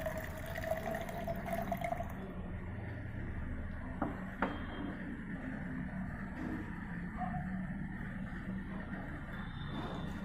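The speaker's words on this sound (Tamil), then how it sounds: "இப்போ இதில் 120 ml வாட்டர் ஆட் பண்ண போகிறேன்." Water, about 120 ml, poured into freshly blended gooseberry (amla) juice in a kitchen, a soft continuous trickle and splash with faint drips, fairly quiet and steady for ten seconds with no talking.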